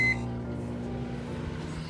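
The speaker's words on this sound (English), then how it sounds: "I am going to heat my mixture just briefly in the microwave" A brief electronic beep at the start, then the steady low hum of a microwave oven running.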